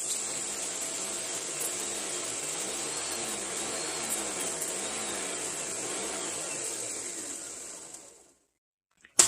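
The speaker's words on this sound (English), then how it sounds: "push those in there and then just pulse it a few times until it's really fine dust" A blender pulses eggshells into fine calcium powder, a steady loud whirring grind running for about eight seconds before cutting off into silence, with a brief knock at the end.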